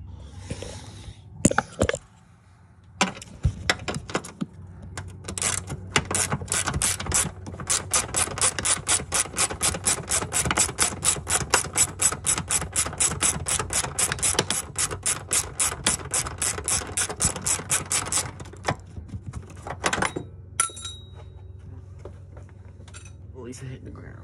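A hand ratchet clicks in a fast, steady, close-up run as it backs a screw out of an intake bracket on a G35/G37, with brief pauses and a few muffled voices around it.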